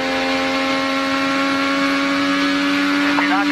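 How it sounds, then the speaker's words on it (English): Onboard engine of Marco Andretti's IndyCar leading the race at Milwaukee in 2013, a loud sustained high-pitched whine held at steady revs close to the microphone, with a brief pitch wobble near the end. "let's take a ride with the race leader, Marco Andretti"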